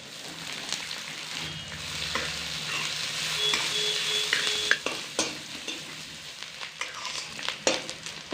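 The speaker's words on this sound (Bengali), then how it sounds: "পেঁয়াজটা হালকা করে ভেজে নিয়েছি" Chopped onion with dried red chillies, black cumin, ginger and garlic sizzles steadily in a pan of oil. A spatula stirs and scrapes it in repeated close strokes, with no talking.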